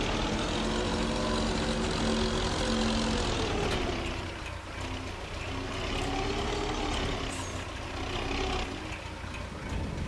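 Heavy truck engine in Farming Simulator 25 rumbling steadily while parking a trailer, a low droning hum that dips briefly midway then continues at a constant level.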